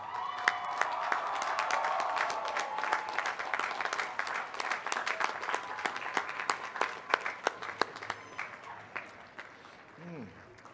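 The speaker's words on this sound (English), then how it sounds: "please join me in giving those people a well-deserved round of applause" Large commencement crowd at a hospitality school graduation gives a sustained round of applause, dense clapping with some cheering, later thinning into scattered individual claps, with a voice talking faintly under it.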